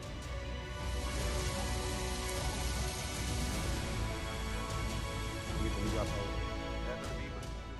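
Heavy torrential rain pours down during monsoon flooding in Himachal Pradesh, a dense continuous hiss of water striking surfaces that stays loud and even throughout.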